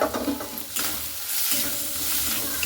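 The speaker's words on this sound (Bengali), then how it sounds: "তো মাছটার সঙ্গে একসঙ্গে এগুলোকে ভেজে নিতে হবে। দিয়ে দিতে হবে সেই আলু কাটাটা।" Boiled fish pieces and cut potato fry together in an oiled pan for a stuffed pointed gourd (potol) dish: a steady loud sizzle with scraping stirring strokes, close and continuous, with no talking.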